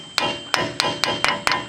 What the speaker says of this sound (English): we'll take a hammer and tap it